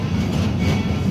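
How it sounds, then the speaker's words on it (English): Busch Gardens Florida park train rolling steadily along its track through the Jungala area, a continuous close rumble with faint rail clatter and no talk over it. "our train is entering into the next section here in our journey"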